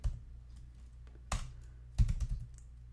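Keys click on a computer keyboard in a few short bursts separated by pauses, close and fairly quiet, with no talking.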